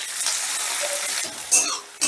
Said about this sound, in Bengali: এবার পেঁয়াজটাকে হালকা লাল করে ভেজে নেব।